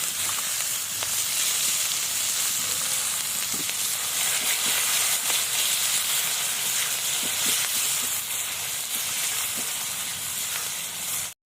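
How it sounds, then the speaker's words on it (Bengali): Chopped onion frying in spiced oil while cooking jackfruit with shrimp, a loud, steady sizzle that runs unbroken for the whole stretch, close up, with no talking over it. "এখন আমি পেঁয়াজ কুচি দিয়ে দিচ্ছি"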